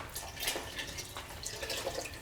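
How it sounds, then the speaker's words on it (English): Tap water poured into a cooking pot for a vegetarian gumbo, a steady splashing, trickling stream close by with no talking. "So we'll add our water to our pot,"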